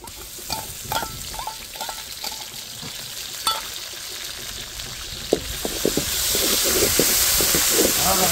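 Ginger paste frying in oil, bursts of crackling and popping over a hiss that grows steadier and louder toward the end, with scraping stirs of a spoon.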